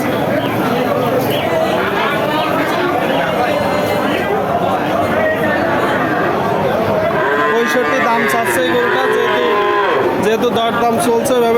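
At a busy rural cattle market, a crossbred Friesian calf gives loud, drawn-out moos close by. Several calls repeat over a dense background of crowd chatter and people talking.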